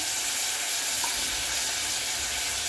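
Clams (shimpli) sizzling in a hot pan, a loud, continuous hiss and crackle that stays steady and close from start to finish, with no talking.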